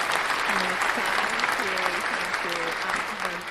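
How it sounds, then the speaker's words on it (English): An audience applauds a co-host on an esports broadcast, dense clapping running throughout with a voice speaking over it. "give a big applause for my co-host, Joanna."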